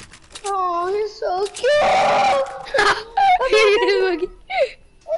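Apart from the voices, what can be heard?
dog whining and screaming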